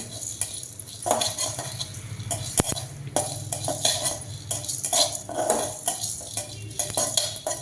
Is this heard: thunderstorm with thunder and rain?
no